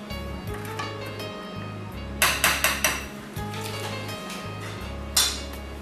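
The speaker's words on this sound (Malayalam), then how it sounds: "ഇതൊന്ന് തൈരിലേക്ക് ഇട്ട് നല്ലപോലെ മിക്സ് ചെയ്ത് വയ്ക്കാം." A spoon clinks and scrapes against a bowl while yogurt is mixed with other ingredients for achari aloo, a run of sharp, close metallic taps in the middle and one more near the end over low background hum.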